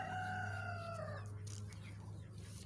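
A farmyard chicken crows close by, its long tonal call fading after a second, followed by soft clucking and rustle under a low background hum, with ducks and chickens kept on the farm.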